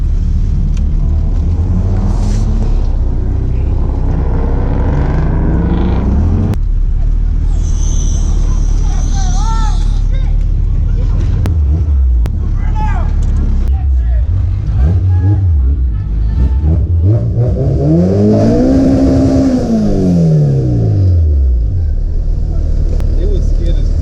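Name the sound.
K24 Integra car revving for a burnout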